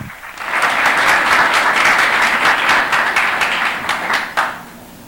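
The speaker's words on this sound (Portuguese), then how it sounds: "Aplaudamos esse Deus vivo." Church congregation applauding steadily in a sustained, loud burst of clapping that fades out near the end, with no talk over it.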